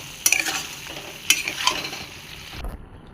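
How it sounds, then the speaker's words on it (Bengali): Soybean chunks with Kashmiri red chilli powder being stirred in a hot pan: a few brisk scraping strokes of a spoon over steady sizzling frying, ending with a clunk. "এটাকে আমি এখন এবার নাড়া দিয়ে নেব।"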